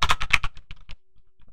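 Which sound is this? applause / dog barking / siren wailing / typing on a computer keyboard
typing on a computer keyboard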